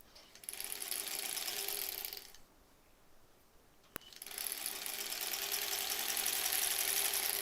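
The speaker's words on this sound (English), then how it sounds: "Ooh, my machine is shaking a bit today." A home sewing machine rattles and shakes as it sews quilt blocks for a granny squares quilt on a slightly wobbly table. It runs in two bursts with a quiet pause and a sharp click between them, close by, with no talk.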